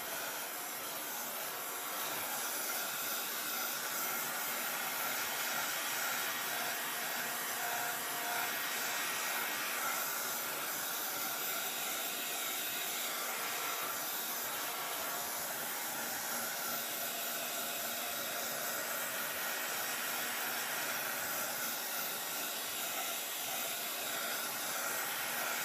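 A hair dryer blows steadily on a craft project, an abstract flower box, giving a continuous loud whoosh that runs unbroken for the whole stretch with no talking.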